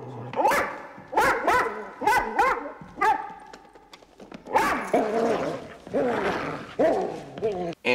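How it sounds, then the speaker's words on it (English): Dog barking at an intruder in a horror movie scene, a run of sharp, loud barks and yips in quick bursts, followed by a denser stretch of barking mixed with other film sound. "barking at the intruder."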